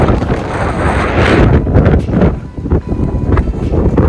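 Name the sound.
strong wind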